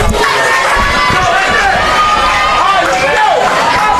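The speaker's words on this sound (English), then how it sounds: "The crowd for the opposing side seeming to come alive." Crowd at a college baseball game, Tampa versus USC Aiken, with the opposing side's fans coming alive: a steady, loud wash of cheering, shouting and babble running throughout with rising whoops over it.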